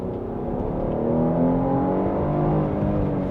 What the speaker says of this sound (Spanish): se siente ese motor V6 haciendo su empuje